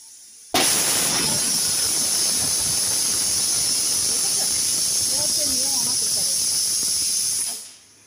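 A pressure cooker on a home kitchen stove hisses steam loudly and steadily for about seven seconds, a broad continuous rush that cuts off and fades at the end, with faint background sounds underneath.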